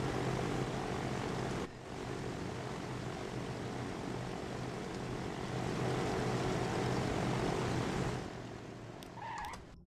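Propeller aircraft flying in Transport Fever 2, a steady loud engine drone holding for about eight seconds before dropping away, with a brief dip early on.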